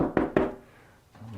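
Two quick, close knocks on a shower wall over a wooden stud, dull and solid, followed by a quiet pause and a faint softer tap at the end.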